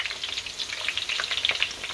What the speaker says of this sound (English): So we are going to start to fry the rice now